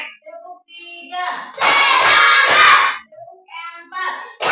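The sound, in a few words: children clapping hands in a class counting game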